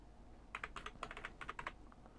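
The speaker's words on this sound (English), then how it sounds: "So now if I type in again my information" Computer keyboard typing in a quiet room, a faint burst of a dozen or so rapid key clicks with short pauses, no voice over it.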